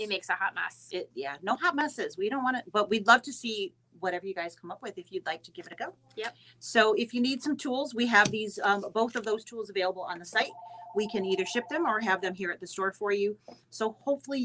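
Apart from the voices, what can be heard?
No everyday noises stand out.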